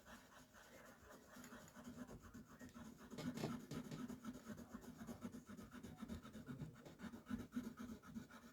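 An eraser rubs hard at stubborn pencil marks on paper, a faint, continuous scratchy scrubbing with uneven back-and-forth strokes heard close up.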